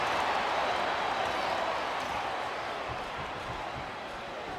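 A capacity crowd in a Smackdown Vs Raw 2008 Hell in a Cell wrestling arena roars in a steady, loud wash of cheering that fades slightly toward the end.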